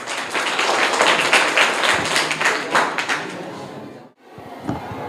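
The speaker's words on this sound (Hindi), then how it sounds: "Correct answer. जोरदार तालियां इनके लिए।" Hearty applause from schoolchildren in a government school classroom in Bihar, a burst of dense clapping lasting about four seconds before it stops abruptly, followed by a faint knock.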